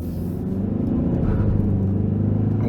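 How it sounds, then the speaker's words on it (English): A 2023 Hyundai Sonata N Line with its 2.5T engine drives on a road, heard from inside as a steady low engine drone and rumble that swells slightly midway, with no talking. "we're going to go ahead and take this 2023 Hyundai Sonata N Line out on the road for a quick test drive"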